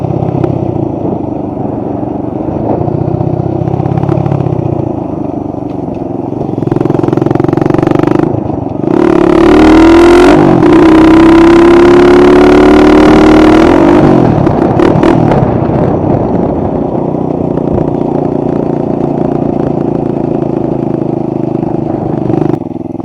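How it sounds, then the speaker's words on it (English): A loud motorcycle engine revs hard, climbing in pitch, then backs off with crackling deceleration pops before settling into a steady running drone. "The deceleration pop on this fucking bike sounds so good to me."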